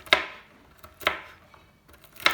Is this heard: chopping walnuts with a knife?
yes